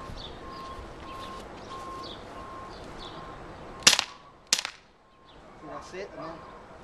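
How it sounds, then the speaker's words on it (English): Two sharp, loud shots from a Colt Defender BB pistol, spaced under a second apart, ring out over quiet background chirping, with a faint whir trailing after. "So I'm just gonna do the final 2 shots."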